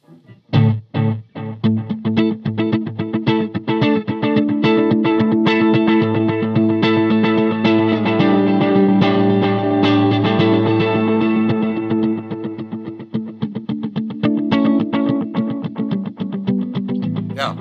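A Roland Space Echo RE-201 style tape echo on a played instrument: rhythmic, sustained tones with repeating echoes and smeared chorus-like tails. The sound is loud and continuous, with a brief pause near the start.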